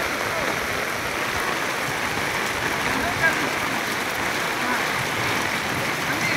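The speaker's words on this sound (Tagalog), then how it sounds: "ang lakas ng ulan dito" Heavy rain in Taytay roars steadily, a dense, even hiss of downpour that stays constant throughout.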